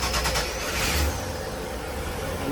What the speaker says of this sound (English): you see the port side engine cranked over, no problem